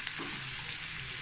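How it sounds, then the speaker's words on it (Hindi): Chopped onion and green chili frying in a pan for matar paneer pulao, a dense steady sizzle that holds evenly throughout a brief stretch, with no talk. "तो प्याज को लाइट ब्राउन होने तक हम फ्राई कर देंगे"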